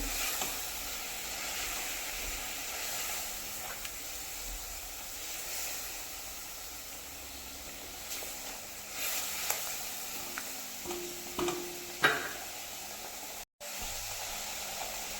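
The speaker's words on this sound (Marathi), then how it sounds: "आता व्यवस्थित असा मिक्स करून घ्यायचा गुळ आणि भोपळा" Jaggery and grated pumpkin cooking in a hot pan on a gas flame, a steady soft sizzle and hiss of melting jaggery with occasional scrapes and clinks of the stirring spoon, close and fairly quiet throughout.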